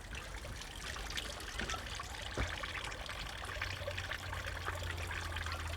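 Water trickles steadily in Golders Hill Park, a continuous close babbling stream with no voices.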